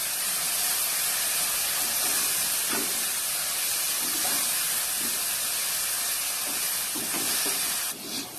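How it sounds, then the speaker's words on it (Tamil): Onion, garlic and ginger paste sautés for a turkey biryani, giving a quiet, steady hiss and sizzle with a few soft stirring scrapes, before the sound drops away briefly at the very end. "சேர்த்திட்டு எல்லாத்தையும் நல்லா பச்சை வாசனை போற அளவுக்கு நல்லா வதக்கி விட்டுறலாம்"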